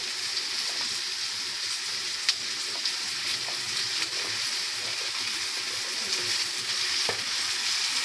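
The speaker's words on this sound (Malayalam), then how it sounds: "നമുക്ക് അതിലേക്ക് അരിഞ്ഞു വെച്ച വഴുതനങ്ങ നമുക്കതിലേക്ക് ഇടാം" Chopped eggplant sizzles and crackles steadily in a hot pan for Kerala-style mezhukkupuratti, with occasional clicks of a spoon stirring the pieces; continuous close frying hiss with no talk.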